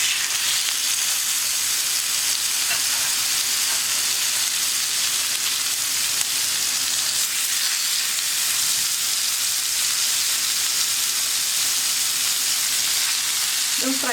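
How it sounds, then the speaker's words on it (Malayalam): Tandoori chicken pieces frying in a pan produce a loud, continuous, close-up sizzle that stays even from start to finish, with a small clink near the end and no talk. "ഇനി നമുക്ക് ബാക്കിയുള്ള പീസും ഇതുപോലെ തന്നെ ഫ്രൈ ചെയ്തെടുക്കാം."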